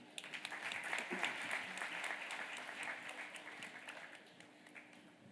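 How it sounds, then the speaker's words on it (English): An audience at a university graduation ceremony applauds in a sustained, fairly distant wash of clapping that slowly tapers off. "Let's give a warm hand of applause"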